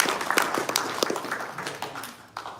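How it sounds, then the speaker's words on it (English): Scattered clapping from a Rotary club audience at a district governor's address, fairly light and uneven with individual claps standing out over a couple of seconds. "So that's a big applause"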